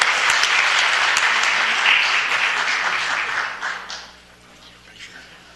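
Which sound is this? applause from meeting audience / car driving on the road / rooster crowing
applause from meeting audience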